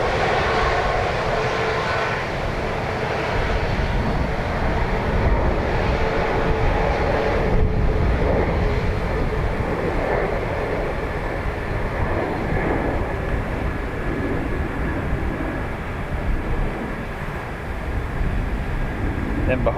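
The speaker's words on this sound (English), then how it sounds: "Will be an E190 tap from Lisbon." A TAP Embraer E190 airliner from Lisbon at Dublin Airport gives off a continuous loud jet roar that swells and eases slightly, with a faint voice underneath.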